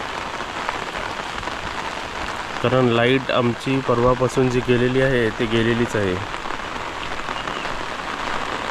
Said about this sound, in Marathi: पाऊस कंटिन्यू पडतो आहे कंटिन्यू कालपासून पाऊस आहे